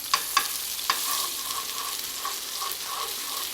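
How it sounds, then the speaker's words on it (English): Butter sizzling in a pan beside seared Scottish salmon, a bright steady frying hiss with a few sharp clinks near the start and soft bubbling pops, close and alone without speech. "at the very end of cooking the fish, I like to add some butter in the pan"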